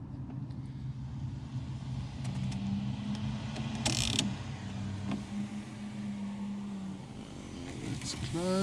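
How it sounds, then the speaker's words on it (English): A VW car's electric sunroof slides open with a steady motor whir lasting a few seconds inside the cabin, with some muffled mechanical clicks and brief talk around it. "So the sunroof's opening."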